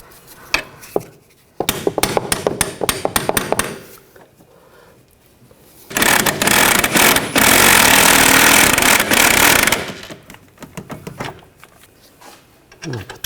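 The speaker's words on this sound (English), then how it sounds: "Just try to tap it in place." A rear CV axle on a 2014–2020 Nissan Rogue is tapped into place, heard as a quick run of sharp metallic taps followed by a long, loud, harsh rattling burst and some scattered knocks near the end.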